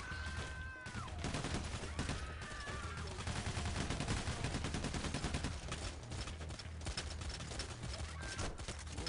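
Rapid bursts of video game gunfire from an online shooter, a dense, continuous fusillade of automatic shots running almost the whole time at close, steady loudness.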